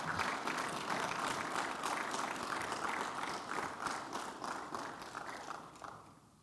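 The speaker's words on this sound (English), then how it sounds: "give them a round of applause" Graduation audience at a fire department recruit class ceremony applauds steadily, a dense wash of clapping that stays strong throughout and tapers slightly toward the end.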